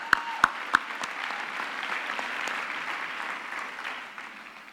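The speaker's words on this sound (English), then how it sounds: "We can give her a hand of applause." Audience applause at a university graduation ceremony's morning session, a few sharp claps opening into a steady, moderately loud patter of hands that tapers off at the end.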